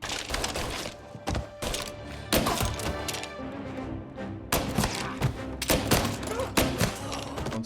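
Repeated gunfire in the video game Mafia: Definitive Edition, with sharp loud shots in uneven bursts and clusters alongside thuds, and faint talk underneath.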